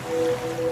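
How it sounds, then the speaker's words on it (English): Soft wash of ocean waves used as a sound effect in a radio advertisement, a brief gentle surge under a faint tonal hum. "now you're drifting asleep to the scent and sound of waves"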